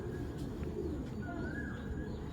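Tournament racing pigeons coo softly and low, a faint murmur close by in a loft.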